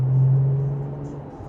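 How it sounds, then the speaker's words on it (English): A 14-year-old car running, its engine giving a short steady low hum that fades slightly, heard up close with no speech. "Oh, hear that? My old school car."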